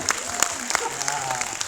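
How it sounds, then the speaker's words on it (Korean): A cinema audience at a director's Q&A screening claps for the director, steady crowd applause with scattered sharp claps and a faint voice underneath. "감독님 박수 한번 보내드릴까요?"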